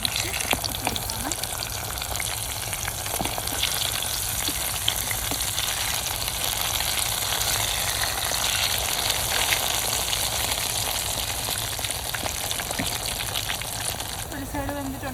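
Brinjal slices fry in a pan with curry leaves, a continuous crackling sizzle with sharp pops and occasional stirring clatter, close and loud, while a voice talks over it at times.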